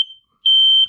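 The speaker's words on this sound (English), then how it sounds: "make sure that your smoke alarm is working properly" An RV smoke alarm under test gives a short high electronic beep, then after a pause a longer sustained piercing tone that cuts off near the end, loud and close with no talking.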